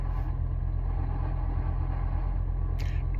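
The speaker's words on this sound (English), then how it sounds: "Well, that really is my car making that noise." A steady, low mechanical drone like a car engine running, constant and close, with no other sounds.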